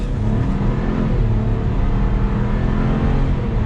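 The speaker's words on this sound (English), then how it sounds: "that's not quite pedal to the floor, and we are up to speed" A 2022 Chevrolet Trailblazer AWD Activ accelerates from a stop, its engine a loud, steady drone heard from inside the cabin throughout, with no one speaking.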